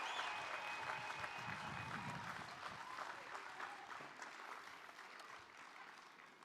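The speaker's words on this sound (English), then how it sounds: "Let's give all of our graduates a round of applause." A round of applause for graduates at a 2021 College of Health & Human Services commencement: steady crowd clapping that holds for several seconds, then slowly thins and fades toward the end.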